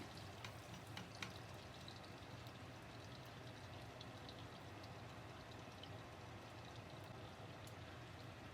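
Onion browns in a pan for a Filipino ginisang bamboo shoot dish, giving a faint, steady sizzle with small scattered crackles and no talking.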